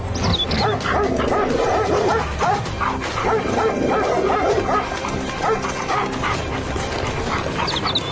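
Several dogs bark and yip in a busy, continuous chorus, with whimpering mixed in and faint voices underneath.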